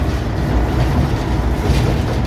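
A sugar cane locomotive on a plantation rail line in Jatiroto rumbles across a bridge, a steady loud low drone of engine and rolling wheels, close by with no talk.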